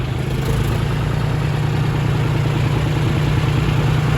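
A tractor engine idles on a Punjabi farm during field puddling, holding a steady, loud, low rumble with no change in pace for the whole stretch; no voices.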